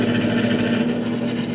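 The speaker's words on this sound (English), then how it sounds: "Let the drill bit do its job." A drill bit bores steadily into bronze, a continuous close grinding whir with a steady tone and a gritty, rasping texture, heard alone with no talk.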